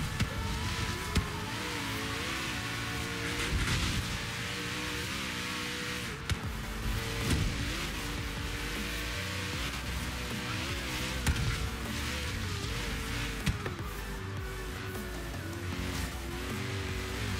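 Racing car engine in Forza Horizon 3, revving hard and steadily through gear changes for the whole stretch, loud and continuous with occasional sharper bursts.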